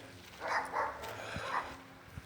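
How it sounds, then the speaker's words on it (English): Dogs on a rural property and the one next door bark from a distance along a tree-lined fence line, a few soft, muffled yaps spaced out over steady outdoor background noise. "we got every dog on the property and next door all barking at us"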